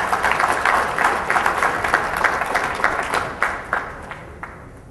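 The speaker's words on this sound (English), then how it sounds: "round of applause for the organizers for an awesome event" Audience at a Barcamp Bangalore feedback session applauds the organizers, a dense burst of many hands clapping that gradually thins and fades out.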